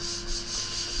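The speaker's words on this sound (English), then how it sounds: "You got to rub it a bit to heat up the glue." Tape rubbed firmly onto a surfboard blank by hand to warm the glue, a steady close scratchy friction that runs unbroken and fairly loud with no voices.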